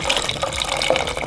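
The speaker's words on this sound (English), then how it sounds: "Now, 2 cups of boiling water." Boiling water poured into a pot of simmering polenta, a short continuous splashing and trickling of liquid close by, steady in level with no talking.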